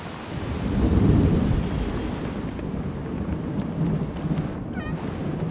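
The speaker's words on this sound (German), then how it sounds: "Oh, regnet stark." Heavy rain and rolling thunder in the Drug Dealer Simulator video game, a deep rumble swelling early then a steady downpour hiss continuing throughout, with no talking.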